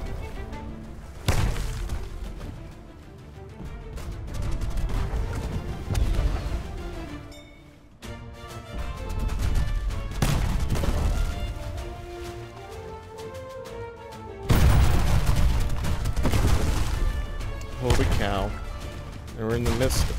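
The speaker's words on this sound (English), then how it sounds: "Being bombarded pretty good" Cannon bombardment in the naval combat game Unearned Bounty, repeated heavy booming blasts and thuds in irregular bursts over a continuous loud game soundtrack, with someone talking over it.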